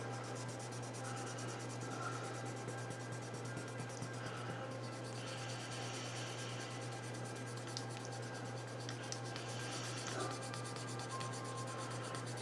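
Steady, soft rubbing and scraping of micro sanding pads wet-sanding clear plastic model parts for a Tiger 1 tank kit, a close continuous back-and-forth friction over a low constant hum, with no talking.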